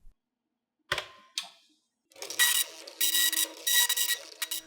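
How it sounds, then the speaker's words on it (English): A Texas Instruments TI-99/4A sidecar printer prints a catalog. A couple of brief mechanical clunks come first, then loud, close, buzzing bursts of print-head noise that repeat in an uneven rhythm. "Instead of viewing the catalog on the screen, we can send it to the TI sidecar printer"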